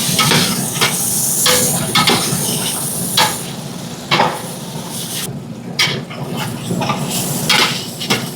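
Chicken pieces sautéing in hot oil in a pan for chicken pulao: a constant loud sizzle broken by repeated scraping stirs and occasional clinks of a utensil against the pot.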